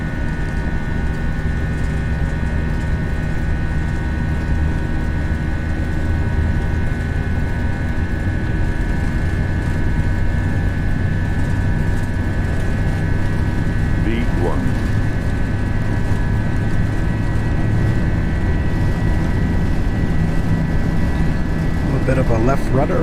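Airliner engines spool at takeoff thrust in an FSLabs A320 flight simulation departing New York JFK, a loud, steady roar with a sustained whine lasting throughout, while someone talks over it.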